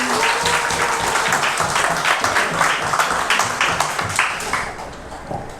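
Sustained applause from a church gathering welcoming a priest, many hands clapping steadily and loudly for several seconds, fading slightly toward the end.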